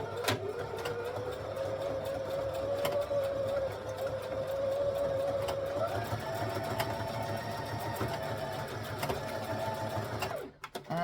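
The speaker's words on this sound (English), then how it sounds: "we're going to sew this together" A sewing machine stitching overlapped elastic together runs in a steady, fast, close whirring hum for several seconds, then slows and stops near the end.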